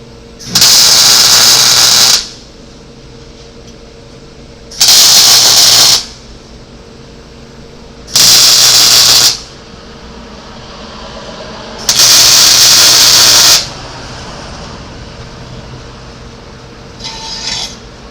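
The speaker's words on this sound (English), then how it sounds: "we're just going to stick them back together and try to find a good ground, and we'll weld them up." Welding rejoins the shortened frame rails of a 1982 Chevy C30 tow truck wrecker, four loud crackling, hissing bursts of roughly one to two seconds each, separated by quiet pauses, close up.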